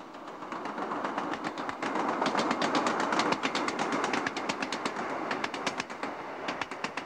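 Train running along the Glasgow North electric line in Scotland, with a steady rolling rumble and a regular clickety-clack of wheels over rail joints that grows quicker and sharper toward the end.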